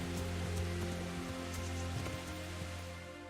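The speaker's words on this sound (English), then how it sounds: "Does it never stop raining in this country?" Steady rain in the medieval video game Kingdom Come: Deliverance, a dense, even hiss of drops hitting surfaces that continues alone without pause.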